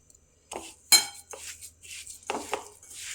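Jaggery and salt being mixed in a bowl with a spoon: a handful of separate clinks and scrapes against the bowl, close and fairly quiet, with short pauses between strokes and no talking.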